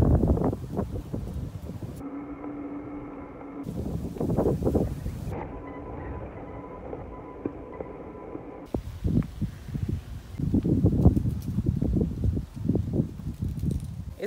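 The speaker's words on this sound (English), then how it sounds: "It's a very windy day today." Strong wind on a sunny day on the island of Grenada, gusting and buffeting the microphone in loud rumbling surges, with quieter lulls in between.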